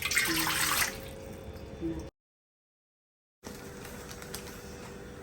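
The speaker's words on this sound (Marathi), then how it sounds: "1 ग्लास पाणी पातेल्यात टाकून द्यायचं." One glass of water pours briefly into a cooking pot in a short splashing gush for about a second, then a low steady hum continues, with a gap of silence.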